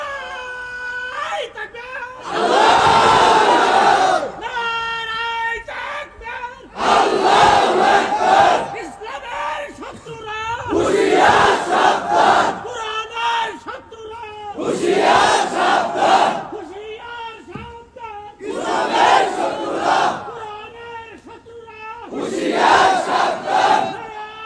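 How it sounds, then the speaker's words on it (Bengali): Large crowd at a Bangladeshi mosque mahfil gathering shouting the takbir in loud unison, five or six long rhythmic chanted bursts separated by brief pauses, with a leader's voice calling between them. "দাঁড়ায় তাকবীর দিবেন"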